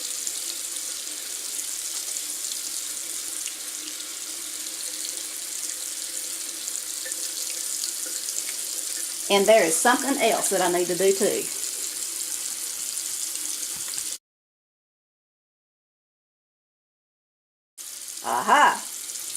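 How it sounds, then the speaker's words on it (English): Water runs steadily from a bathroom sink tap, a constant hiss broken by a brief spoken line partway through, then cutting off abruptly before a short final burst of sound with a voice. "I should have had some warm water going."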